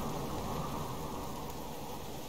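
Steady rain falls in the survival video game Subsistence, a dense, even hiss that stays constant and fairly loud across the whole short stretch, with no voices over it.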